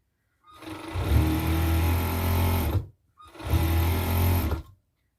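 A sewing machine runs in two bursts of fast, buzzing stitching, close and loud, separated by a short pause.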